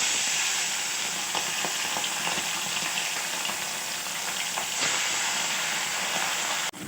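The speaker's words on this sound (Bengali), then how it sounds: "তেলটা গরম হয়ে গেছে। এক এক করে মাছগুলো আমি ছেড়ে দেবো।" Bata fish fry one by one in hot oil in a pan with a loud, unbroken hiss and crackle. No one speaks, and the sizzling stops abruptly at the very end.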